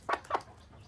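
A broody hen in a hen house gives two quick, close clucks in a row, followed by faint background quiet.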